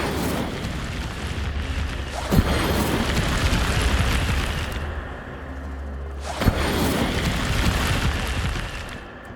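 Fire spells cast in Hogwarts Legacy roar as whooshing, rumbling bursts, with two sharp impact thumps a few seconds apart, each followed by a sustained flaring rush that swells and fades, and no talking over it.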